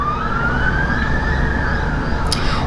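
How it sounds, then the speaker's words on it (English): An emergency vehicle siren wails past outdoors, one long rising and falling tone that is moderately loud over steady traffic rumble, with no speech. "sorry about the siren there"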